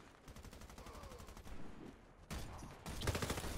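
Automatic gunfire in the video game Warface on Nintendo Switch, with a KRISS Super V Custom in use: rapid bursts of shots, fairly quiet, growing louder and denser toward the end.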